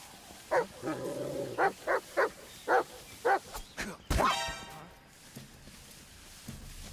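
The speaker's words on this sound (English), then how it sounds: "It's just a dog." A dog barks in the video game Metal Gear Solid Delta: Snake Eater, a run of about nine sharp, evenly spaced barks, followed by a sudden loud growl or snarl, set amid jungle ambience.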